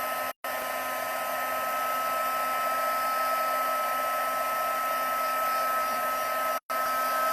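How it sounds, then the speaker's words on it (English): A heat embossing tool melting embossing powder on a Christmas stamped card gives a constant close whirring blower hum with a steady motor tone, briefly cutting out twice. "So embossing is a great option."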